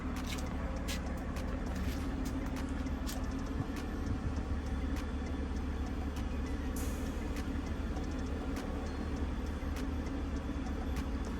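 A 1994 Acura Legend engine idles steadily with a continuous low rumble and no knocking, no talking over it.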